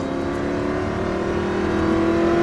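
An Aston Martin sports car engine revs steadily upward, a loud, rising whine building under acceleration with no talking.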